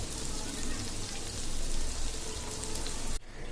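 Taro and prawn fritters (kochu chingri bora) frying in oil, a steady rain-like sizzle and crackle, close and even, that drops away abruptly near the end.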